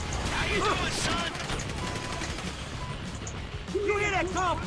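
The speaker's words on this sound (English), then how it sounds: "You hear that gunfire?" Bursts of rapid gunfire crackle through a noisy Grand Theft Auto V soundscape, with voices talking over the shooting near the start and again at the end.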